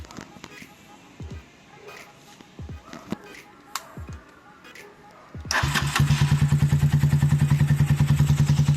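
A motorcycle with a cheap aftermarket carburetor and its exhaust pipe removed fires up after several quiet clicks and taps, then settles into a loud, rapid, even idle close by.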